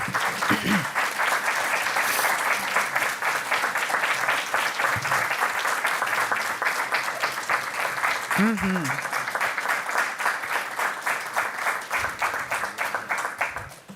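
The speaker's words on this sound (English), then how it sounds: "Can we just give them a round of applause?" An audience at a school board of education meeting applauds a Wisconsin high school baseball team with dense, steady clapping that continues for the whole stretch, loud and close, with a brief voice heard partway through.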